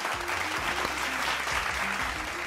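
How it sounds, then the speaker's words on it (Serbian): A studio audience applauding a podcast guest, Pavle Jovanović, with brief, dense clapping throughout under a low tonal hum, with no talk. "Molim jedan aplauz"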